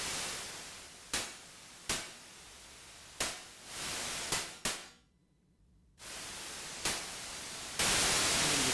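A Behringer UB-XA synthesizer sends out bursts of white noise shaped like a crash cymbal. Several sharp hits decay quickly, then longer sustained noise washes follow with a gap of silence between them. No one speaks.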